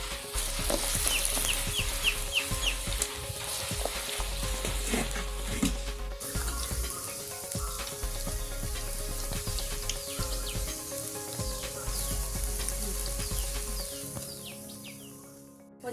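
Steady bubbling sizzle of masala vada (lentil fritters) deep frying in hot oil, continuous and close, with faint birdsong in the background.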